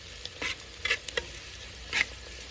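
Onions frying in oil for a village-style chicken skin dish give off a quiet sizzle broken by several short crackling bursts and stirring scrapes, with no voices.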